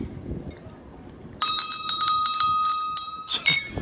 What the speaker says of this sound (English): you gonna ring the bell?